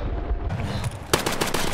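Gunfire in the video game Escape from Tarkov: a loud, rapid burst of close shots cracks out in the second half, following a rumbling, noisy stretch with no talk.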